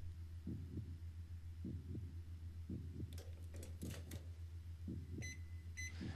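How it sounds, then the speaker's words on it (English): Loud microwave in a video game kitchen, a steady low electrical hum running throughout with a soft pulsing throb and a few faint beeps near the end, no voices. "This microwave's freaking loud."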